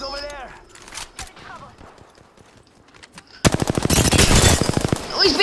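Automatic gunfire in the Apex Legends video game bursts in as a loud, rapid string of shots, following a quieter stretch of game effects with occasional single pops.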